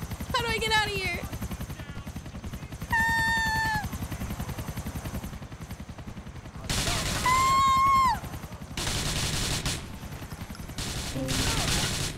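Helicopter rotor noise and bursts of gunfire from the video game GTA 4, with loud shot volleys and sustained mechanical whirring; synthetic whistling tones sweep through in places, and a player talks between the action.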